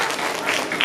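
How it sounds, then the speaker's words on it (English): Fourth graders at a grade-school math competition get a brief, close burst of clapping from the room, dense and steady for under a second. "Fourth graders, great job. Give them a round of applause."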